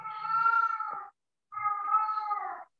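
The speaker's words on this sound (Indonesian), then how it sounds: "Kucing, soalnya suara kucing." A cat meows twice, two drawn-out, clear calls about a second each separated by a short pause, close and alone with no talk.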